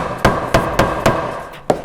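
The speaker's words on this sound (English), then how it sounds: "you use the ball peen hammer and you get it in that hole" A ball peen hammer strikes a paper gasket to punch bolt holes for a Wheel Horse rototiller gearbox, five sharp, close taps at a steady, unhurried pace, alone without speech.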